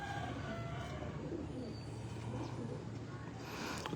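Jonsray breeder pigeons at a loft cooing softly and continuously, faint under a low background hum with a voice murmuring nearby.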